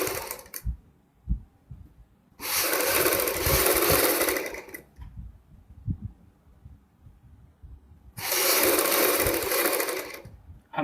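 A sewing machine runs in two sustained bursts of steady whirring, close and fairly loud, stitching thin piping onto a kurti, with quiet handling clicks and thumps between the runs.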